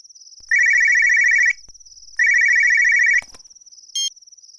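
Telephone ringtone in a Tamil short film, two long electronic ringing bursts separated by a pause, then a short chirp, loud and close with no talk.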